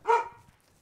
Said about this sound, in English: Where were you the first time you heard the doggy